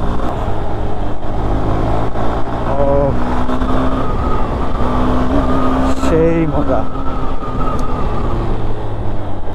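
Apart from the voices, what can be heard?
Honda Hornet 2.0 motorcycle being ridden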